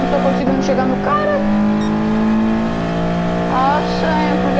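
Engine of a roughly 1000-horsepower race car in a racing video game holds a steady tone and then revs upward in short rises, loud and close, with a voice speaking alongside.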